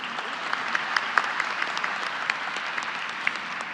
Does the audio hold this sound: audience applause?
yes